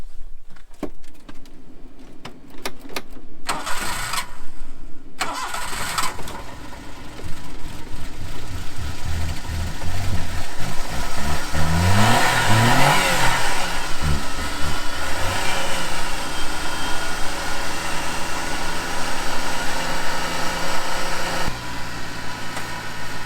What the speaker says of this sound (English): We'll do a little cold start on this. It should start up just fine.